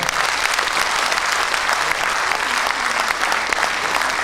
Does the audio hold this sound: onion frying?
no